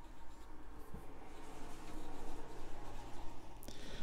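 A Lamy Aion fountain pen in olive silver with an extra fine nib writes on paper, giving a close, soft scratchy scraping that runs continuously in short strokes.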